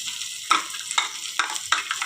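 Chopped onion fried in oil in a wok, a steady sizzle broken by four sharp scraping bursts from stirring, close and moderately loud with no voices.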